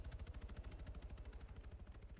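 A helicopter in the military game Arma 3, heard as a faint, steady rapid rotor chop with an even rhythmic thumping throughout.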